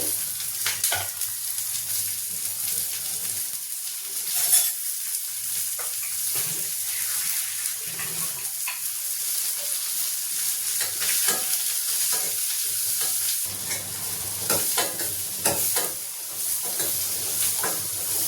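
Onions sautéing in a pan for a Tamil fish curry, a continuous close sizzle with frequent stirring scrapes and clatters, plus brief splashy bursts like running water.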